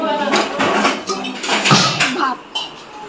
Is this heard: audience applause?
no